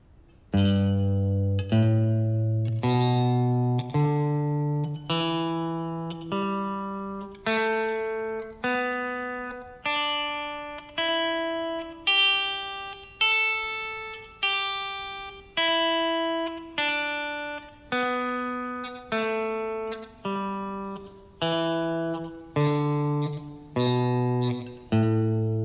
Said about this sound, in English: another major pentatonic scale based on the next available position higher than the one we just played